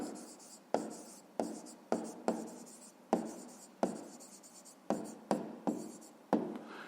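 A pen writes the answer to a fifth-grade geometry problem on paper: about a dozen short, scratchy strokes in an irregular rhythm, each a crisp close scrape that quickly fades, with no talking.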